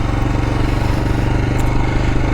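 Royal Enfield Himalayan motorcycle engine running steadily at close range, a continuous low throbbing drone with a fast even pulse, loud and alone.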